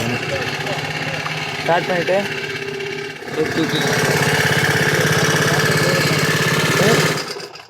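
Small engine of a seed broadcasting blower machine running steadily at a loud, close idle with a rough mechanical chatter, briefly dipping around the middle before settling back to a constant drone.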